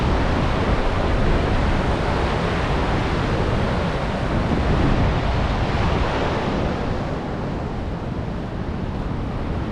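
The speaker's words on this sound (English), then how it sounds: "just watching the waves crash" Ocean waves surging onto the shore at Fort Bragg, California on a chilly morning: a loud, continuous broadband roar mixed with strong wind buffeting the microphone, swelling and easing slightly.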